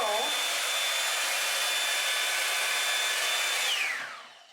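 Revlon Air Straight hot-air styler blowing steadily while drying thick curly hair, a loud continuous whooshing hum held close up for several seconds before it winds down and switches off.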